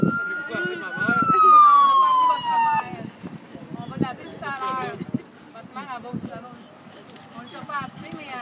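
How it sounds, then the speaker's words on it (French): A wailing ambulance siren sweeps downward in pitch over the first few seconds during an emergency simulation, then fades beneath busy street noise, chirps and people talking nearby. "On les entend, les ambulances s'en viennent, là."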